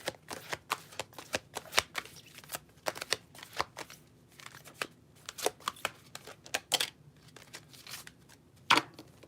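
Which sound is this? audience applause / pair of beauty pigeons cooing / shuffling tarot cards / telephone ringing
shuffling tarot cards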